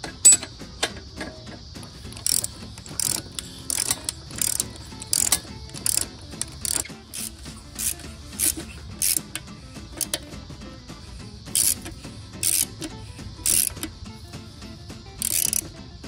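A ratchet clicks in short repeated bursts while tightening a chain, crisp close metallic ratcheting with brief pauses between strokes, no talk.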